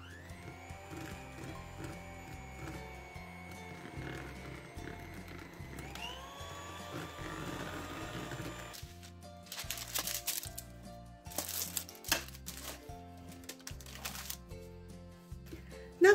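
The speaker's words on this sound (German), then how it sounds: "Jetzt mixe ich weiter etwa 5 Minuten lang auf der höchsten Stufe." An electric hand mixer runs at its highest speed, beating apple cake batter, giving a fairly quiet, steady whine that rises in pitch, over rhythmic rattling and clattering from the bowl.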